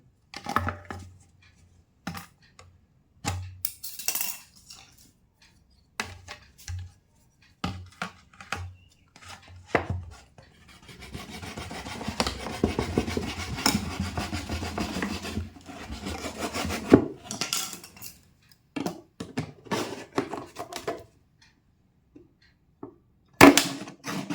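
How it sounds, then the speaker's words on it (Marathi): Plastic chocolate jar being cut into a bottle shape for a crab trap, with short scraping and rasping strokes in bursts separated by pauses, plus a longer sustained stretch of steady cutting midway, close and fairly loud. "अशी बाटली कटिंग करून घ्यायची"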